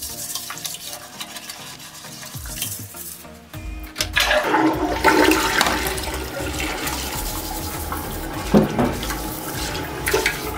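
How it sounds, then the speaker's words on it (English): A toilet flushes after its bowl is scrubbed with a toilet brush to clear a hard water ring. Brushing and trickling water come first, then a loud close rushing surge that gurgles on as the tank refills. "Now use your toilet brush to clean the inside of the toilet and flush out all the dirt."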